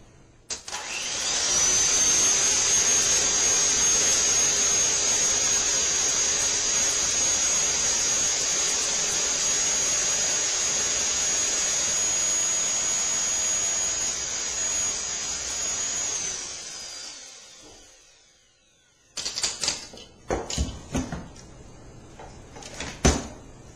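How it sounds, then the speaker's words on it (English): A hand mixer runs at high speed whipping homemade mayonnaise, a steady loud whine with a high tone that holds for about fifteen seconds before winding down, followed by a few clattering knocks. "My first step will be to get the mixer started at high speed, mix all the ingredients, and then add very slowly a stream of oil."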